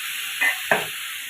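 Bananas and potatoes dropped into a pan of fried spices: a continuous hiss of frying with two quick bursts of sizzle as pieces hit the hot oil, close by.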